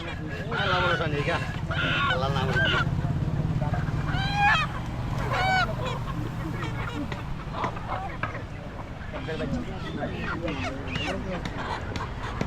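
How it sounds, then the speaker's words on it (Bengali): Free-range local chickens cluck and squawk at a hill-country poultry market, with people talking nearby and a steady background hum. "এগুলো হচ্ছে যে অরিজিনাল দেশি মুরগি"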